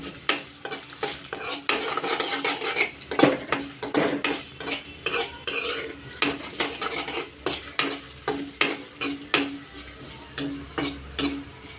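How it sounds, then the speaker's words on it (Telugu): Dried red chillies fry in hot oil as a spoon stirs them, giving a continuous close sizzle broken by repeated scraping and clinking strokes against the pan in an uneven rhythm. "ఇప్పుడైతే ఎండుమిర్చి వేసుకుంటున్నా"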